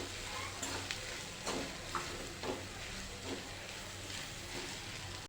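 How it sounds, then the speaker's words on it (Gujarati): Pigeon peas being stirred in a pan, with soft rhythmic scrapes about twice a second over a low, steady sizzle. "આ તુવેર લીધેલી છે તેને પણ લઈ લઈશું અને હલાવી લઈશું"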